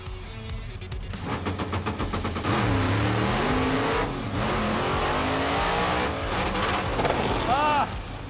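A 1970 Dodge Super Bee launches down a drag strip with a loud, close engine roar that revs up hard and holds strong, with sharp bursts near the start and voices over it.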